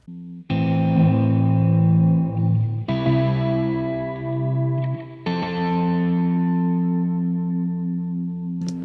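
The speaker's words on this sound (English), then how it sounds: "I can alter the repeat rate to change the delay time manually" BOSS RE-202 tape echo delay on a sustained sound, its repeat rate altered by hand to change the delay time, giving three long swelling tones with shifting, smeared echoing repeats.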